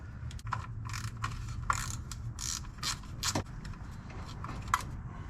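Bolts coming out during a B&M shifter install on a 1976 Chevy LUV: quiet, irregular ratcheting clicks and metallic scrapes from a hand tool, close by, with no speech.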